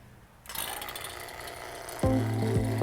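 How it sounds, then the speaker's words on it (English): Vacuum pump switched on for a car A/C system on a BMW M5 E60: after a brief click and rising hiss, a loud steady mechanical hum starts abruptly and runs on, close and alone. "We're gonna turn on the vacuum pump."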